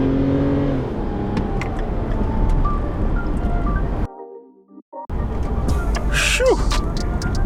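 A used BMW 135 with an automatic gearbox accelerates hard, its engine rising in pitch through the gears from inside the cabin, with a brief drop out midway and loud road noise throughout.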